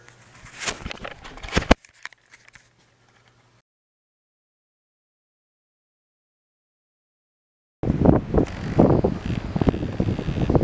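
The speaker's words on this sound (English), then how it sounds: "The wind's going in three different directions up here." Wind buffeting a microphone outdoors on a hillside, loud rumbling gusts in the first two seconds and again from about eight seconds onward, with a long silent gap between them.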